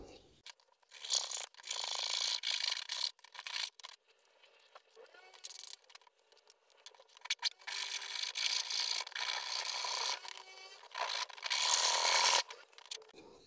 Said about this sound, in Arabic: بالصفيحه المنشار هبتدي اقص كده